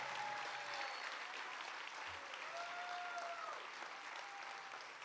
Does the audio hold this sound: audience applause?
yes